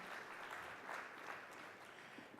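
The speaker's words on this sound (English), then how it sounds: "Could we have a huge round of applause," Audience applause at an advertising leadership awards ceremony, a faint, steady wash of clapping from a distant crowd, with no clear talk over it.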